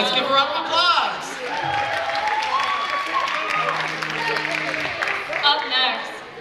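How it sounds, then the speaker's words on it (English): A school crowd at the Mr. & Miss WHS 2018 pageant applauds, with sustained loud clapping and cheering filling the hall and a few shouts and whistles rising over it. "Let's give a round of applause."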